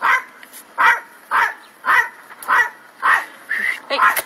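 A dog barks repeatedly at close range, about eight sharp, loud barks in a steady rhythm, each one separated by a short pause.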